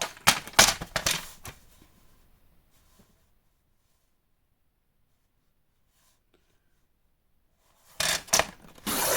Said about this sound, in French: on va couper un morceau de 6 cm sur 9